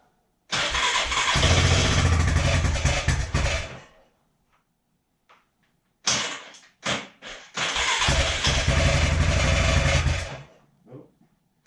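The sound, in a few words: ATV engine starting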